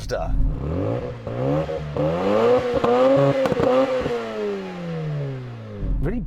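A 1.3-litre Mazda rotary engine revs up and holds a high, buzzing pitch with harmonics rising and falling, then drops back before a brief rev at the end.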